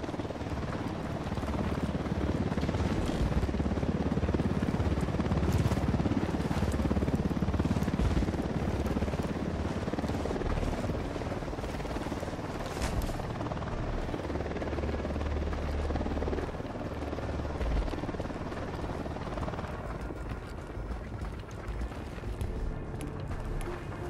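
An enemy Unidad patrol helicopter flies in Ghost Recon Wildlands, its rotor throbbing steadily for the whole stretch and easing slightly toward the end, with no talk over it.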